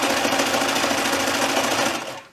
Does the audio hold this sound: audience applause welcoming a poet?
no